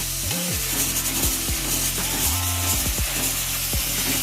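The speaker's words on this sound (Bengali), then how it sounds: "পেঁয়াজটা আমার এখানে মোটামুটি ভাজা ভাজা হয়ে গেছে" Onions salted in a pan fry with a soft, continuous sizzle, punctuated by scraping and stirring sounds from a utensil against the pan, heard close by.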